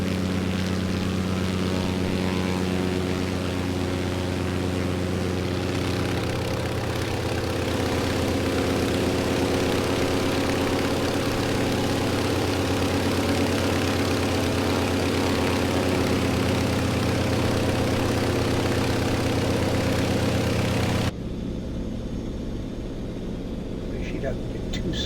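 Antonov AN-2 radial engine and propeller in Microsoft Flight Simulator 2020, a steady loud low drone with a throttle adjustment, continuous throughout before the tone abruptly changes near the end.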